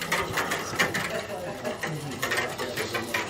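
A Cb350 Italian ice machine runs with a steady mechanical clatter that repeats in quick cycles and stays close and fairly loud throughout.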